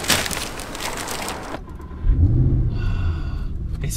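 A Mercedes SLS AMG engine rumbles up close, a broadband roar giving way to a deep rising rev that swells and holds, with no voices over it.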